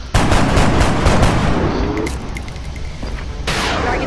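Rapid bursts of automatic gunfire and single shots crack through a firefight in the turn-based strategy game XCOM: Enemy Within, loud and dense, with a brief lull partway through before the shooting picks back up.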